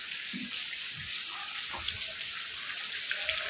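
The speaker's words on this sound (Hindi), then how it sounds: "आप देख सकते हैं किस तरीके से बारिश हो रहा है, बहुत ज़्यादा बारिश हो रहा है" Heavy rain pours at a flooded construction site as a steady, dense hiss of falling water, with scattered nearby splashes and drips.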